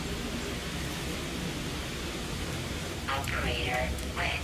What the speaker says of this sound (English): Oh, it's raining in here.